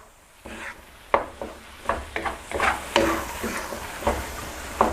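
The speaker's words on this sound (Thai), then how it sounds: "ทีนี้ก็ถึงขั้นตอนในการที่เราจะผัดจะคั่วไปเรื่อยๆ จนกว่าน้ำเขาจะแห้งนะครับ" Minced pork for a Thai khua kling stir-fried in a pan until dry: repeated spatula scrapes and strokes over a steady, low sizzle, close and without talking.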